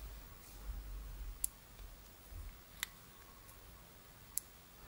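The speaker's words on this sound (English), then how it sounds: "This click moves the parallax, so from 1:1 all the way to 8 time magnification the parallax is set at 100 meters." A Schmidt & Bender 1-8x24 PM II Short Dot rifle scope gives three sharp, faint parallax clicks, spaced roughly evenly apart against a quiet hiss.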